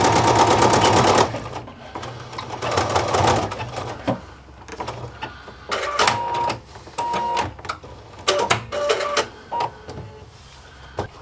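A sewing machine fitted with a flat felling foot stitches napkin fabric, its motor running in steady bursts of rapid needle clatter with short pauses between runs, close and fairly loud with no talking.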